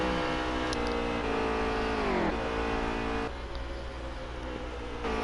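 Racing trucks running on a track: a continuous loud engine roar with shifting pitch as the trucks pull away, steady and unbroken throughout.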